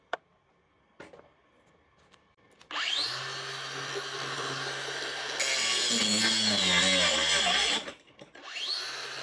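A DongCheng DCSM04-100 cordless grinder whirs up to a loud, steady whine, strains under load, cuts out briefly from overload, then quickly spins back up with a rising whirr.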